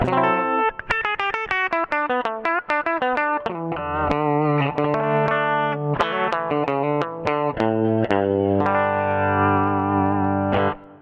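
Bright, snarly electric guitar playing through a bridge pickup: a quick run of picked notes, then sustained chords ringing out, loud and up close with no talking.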